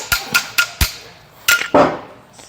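Medium hammer striking metal on a car's lower ball joint: four sharp, evenly spaced clanging blows, then two heavier, duller hits, loud and close with brief ringing decay.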